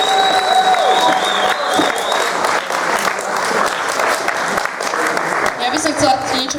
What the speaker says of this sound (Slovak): potlesk súdružkám učiteľkám.